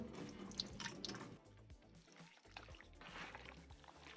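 Rinse water draining from meat in a home kitchen during tamale preparation: a steady splashing, trickling flow, close and moderately loud, with no voices over it.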